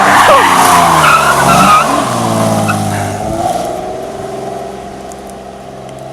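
A 3.7 V6 Mustang drifts with loud, sustained tire squeal and a revving engine, close at first and then easing off as the skid trails away over several seconds.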